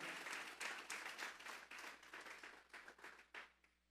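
Congregation clapping in a church during a Sunday service, many hands beating in a quick rhythmic pattern for several seconds before trailing off, fairly faint and distant.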